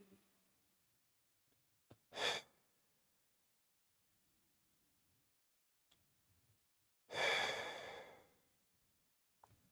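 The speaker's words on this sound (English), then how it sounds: "take 1 or 2 deep breaths in" Two deep breaths drawn in during a guided mobility exercise, each a loud breathy rush lasting about half a second to a second, the first near 2 s and the second longer near 7 s, separated by quiet with a few small clicks.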